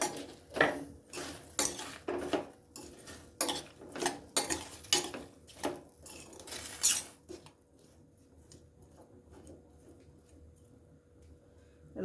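A spoon scrapes and knocks against a pot while ivy gourd with salt and water is stirred, giving a run of rhythmic metallic clinks and scrapes that fade into a quiet low hum.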